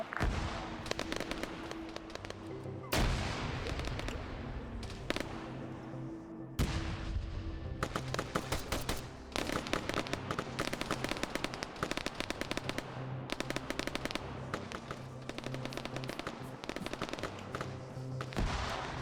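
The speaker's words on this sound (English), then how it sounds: "Gonna get a few grenades up there." Grenades and gunfire in a military video game airborne operation: dense, continuous volleys of sharp cracking blasts with heavy booming hits, loud and close throughout with no talk.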